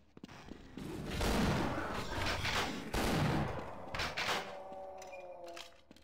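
Shotgun blasts in Half-Life: Source, a few loud, close booming shots with thuds and mechanical clatter between them, tailing off into quieter game sounds.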